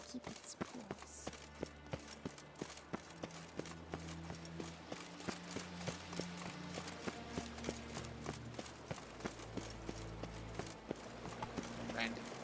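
A horse's hooves clop in a steady rhythm in The Witcher 3: Blood and Wine, set beneath a sustained musical score that carries through the whole stretch, with faint speech at times.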